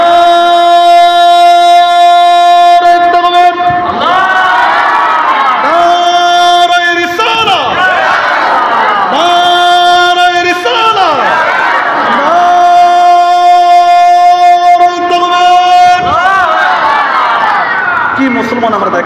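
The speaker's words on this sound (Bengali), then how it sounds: "তাকবীর দেন, নারায়ে তাকবীর" A large crowd answers a preacher by shouting the Islamic takbir chant in loud call-and-response waves over a strongly amplified, humming voice, with cheering swells repeating across the gathering.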